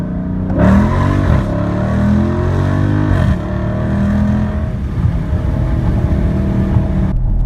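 A Dodge Charger Scat Pack on performance tires accelerates hard from about 20 mph, its engine rising in a loud, deep roar with a brief shift-like dip, then holding a strong steady drone close by.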